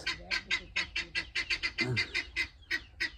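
A francolin calls near a rural char village, giving a rapid run of about a dozen loud, harsh, evenly spaced honking notes with a brief throaty pause in the middle.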